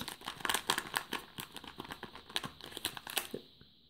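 Wrapping paper and packing material crinkle and tear as a fragile birthday parcel that arrived by post is carefully unpacked, with a steady run of close, busy rustling crackles that stops abruptly at the end.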